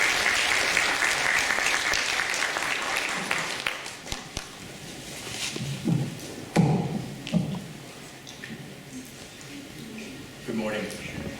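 Audience applause at an academic forum on global security, loud sustained clapping from a large crowd that fades after about four seconds, leaving scattered claps, thumps and murmuring.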